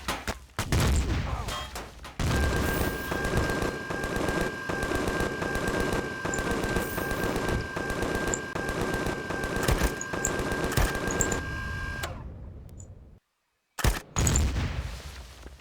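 Defensive base turrets in the Empyrion video game fire rapid, sustained automatic bursts for several seconds. A steady tone sits beneath the fire before it cuts to brief silence, then a short final burst follows.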